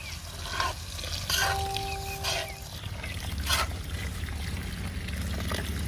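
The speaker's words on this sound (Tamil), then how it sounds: "நம்ம காய்ச்சின பாலை இப்போ கேரட்டில் ஊற்றி வேக அடித்து எடுத்துக்கலாம்" Boiled milk pours into ghee-cooked carrots for carrot halwa, stirred together in a pan, giving a steady soft hiss with a few brief scraping and splashing bursts at moderate volume.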